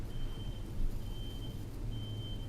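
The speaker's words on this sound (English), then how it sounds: "is that beeping?" Faint reversing beeps from a distant truck sound in three spaced bursts over a low, constant background hum.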